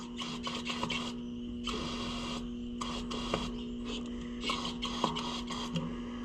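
Brake Clean aerosol hisses into the fuel line of an Oliver 1450 tractor in several bursts separated by short pauses, close and clear, with no talking.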